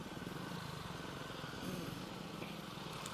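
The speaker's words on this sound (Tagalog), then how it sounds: "ibang motor yan ah Honda Click Honda Click" Scooters and motorcycles, including Honda Click and Beat models, hum steadily through rush-hour traffic on Katipunan, a continuous close engine drone with a slight swell midway and no talk.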